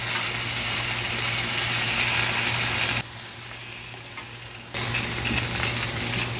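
Sausages sizzle on a grill in a loud, steady broadband hiss with a low hum beneath, the sound dipping briefly for a couple of seconds before returning at full strength.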